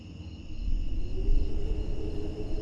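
Steady, continuous cricket chirping in an outdoor scene of an indie horror video game, with a low rumble of wind beneath it and no voices.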